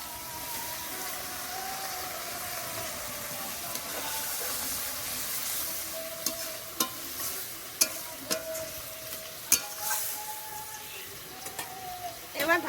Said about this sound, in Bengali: এখন আমি অল্প করে একটু জল দিয়ে দেবো